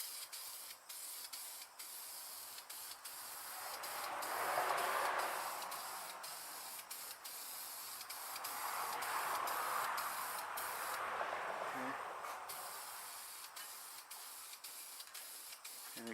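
A spray gun lays a coat of paint on a 1996 SN95 Mustang spoiler in a garage, with steady hissing passes that swell and fade in long sweeps, fairly quiet and with no talk.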